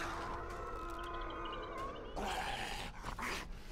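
A zombie dog in the video game 7 Days to Die growls low and steadily at close range for a few seconds, followed by a harsher burst of snarling noise.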